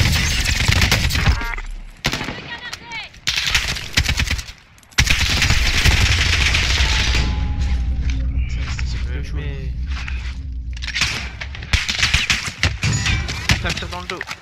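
Automatic rifle gunfire from an AK47 in Call of Duty: Warzone, loud rapid bursts broken by short gaps, with players talking over it throughout.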